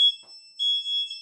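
A BAYS AI fire sniffer smoke detector sounds its alarm, a steady high-pitched electronic tone with a brief dip, then louder pulsing beeps that continue alone, close and clear.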